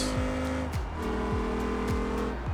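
Gavril Barstow IV car in the BeamNG driving game, a loud engine revving through repeated rising gear pulls with quick shifts between them and brief tire squeal, steady and close throughout.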